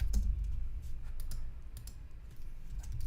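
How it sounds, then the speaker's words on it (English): Quiet, close computer keyboard typing in irregular bursts of soft clicks and taps, heard alone with no talking. "So I'm going to go over and type stuff in chat."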